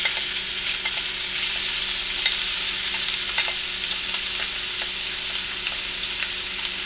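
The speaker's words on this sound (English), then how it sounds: "And what I'm doing is I'm basically browning the meat." Ground turkey browns in garlic-infused oil in a pan for a mapo tofu dish, a steady close sizzle and fry with occasional stirring scrapes running throughout, no voices.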